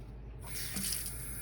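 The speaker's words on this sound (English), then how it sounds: "So I'm just going to slowly add some more water in here and recheck." Hot water, heated to around 110 degrees for an African violet hot water treatment, is poured slowly into a carafe, starting as a soft, quiet trickling hiss that continues steadily to the end.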